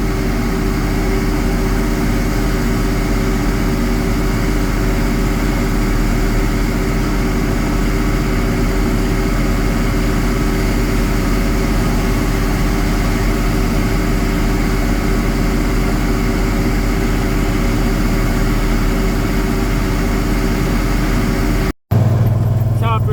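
Steady low drone of a four-wheel-drive 2350 tractor engine pulling silage wagons on a farm, loud and continuous throughout, with a brief sharp break near the end.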